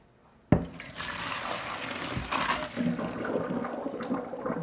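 Water from a kitchen sink tap runs steadily over cooked spaghetti to rinse off the starch, starting suddenly with a splash and continuing as a close, rushing stream with some gurgling.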